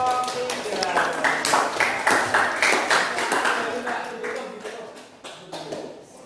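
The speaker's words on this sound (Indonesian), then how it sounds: "tepuk tangan untuk kelompok 3" A classroom audience claps for a student presentation group, a spread of individual hand claps rising and then thinning out over several seconds, mixed with a background of talking voices.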